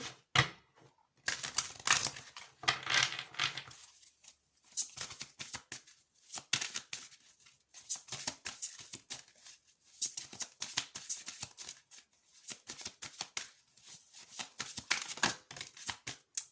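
Tarot cards are shuffled in repeated quiet bursts of papery riffling and tapping, separated by short pauses, close and soft.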